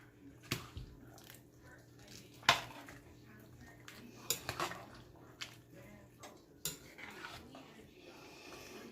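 Fresh spinach being folded into a kabocha squash red curry stew in a pot, with soft wet stirring and a few sharp clinks of a utensil against the pot, quiet and close.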